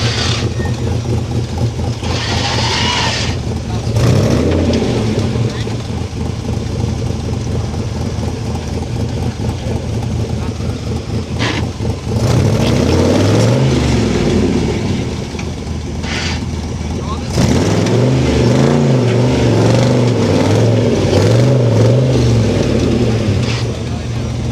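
Engine of an off-road rock-crawling vehicle revving in steady, loud surges as it hangs up on a rock while winching, with broad low rumble and rising pitch sweeps across the clip.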